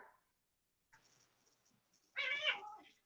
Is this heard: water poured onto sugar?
no